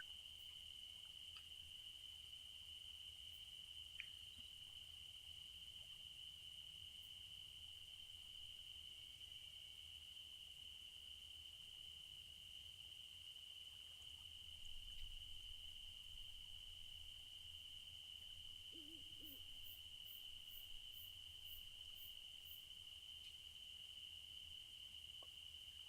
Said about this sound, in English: Let's listen to the crickets and the birds.